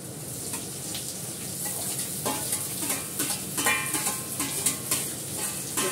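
Potato, onion, carrot and capsicum sizzle steadily in a hot steel pan, with scraping stirs and small clatters over a constant frying hiss.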